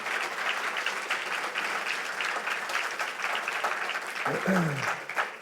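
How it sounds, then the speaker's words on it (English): An audience at an evening Q&A session with Phil Johnson claps steadily and fairly loudly for several seconds, with a brief voice rising near the end over the fading applause. "give him a round of applause for his time tonight"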